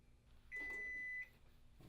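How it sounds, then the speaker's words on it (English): A single clear electronic beep sounds from a store cash register after it boots up, lasting under a second over faint room noise, with no talk. "Okay, we have that beep,"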